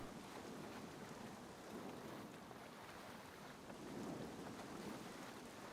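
Storm at sea in the video game SCUM, a steady rush of rain and wind with low rumbles that swell and fade, heard from a boat near a lighthouse and buoys, fairly faint and without speech.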